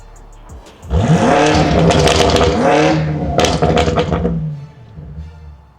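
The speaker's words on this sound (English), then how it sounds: "I'm gonna rev it for you guys right now, just so you can hear how loud this thing actually is." A BMW M8 Competition with its stock exhaust revs hard in two loud bursts, the engine note sweeping up and falling back, with a sharp thunk-like crack between them and a quieter idle settling at the end.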